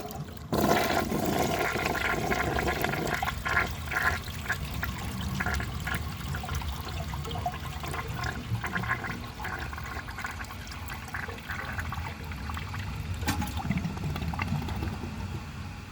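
A 1976 American Standard Cadet toilet flushing a dish towel: a loud, sustained rush of swirling water that keeps churning and trickling steadily with no voices.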